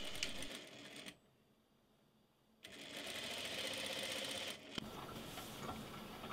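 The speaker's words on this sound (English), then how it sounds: "proceeded to do the exact same step on my main bodice, sewing that together at this shoulder seams as well" A sewing machine stitching the shoulder seams of a main bodice, running in two steady, close bursts of rapid mechanical clatter separated by a pause of about a second and a half.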